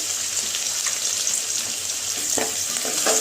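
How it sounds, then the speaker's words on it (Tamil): Steady, bright sizzle of garlic and ginger frying in hot oil, with occasional soft scraping from stirring; no voices. "நல்லா இஞ்சி பூண்டெல்லாம் நல்லா வாசனை வர வரைக்கும் நல்லா எண்ணெயில் வதக்கி வேணும்"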